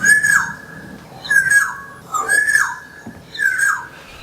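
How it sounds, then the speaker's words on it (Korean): Four bright, whistled calls of swallows and orioles repeat at roughly one-second intervals, each a clear fluting phrase with a sharp upper note, close and distinct. "가을까지 우리 곁에 머무는 새, 제비와 꾀꼬리의 고운 울음부터 들어보시죠."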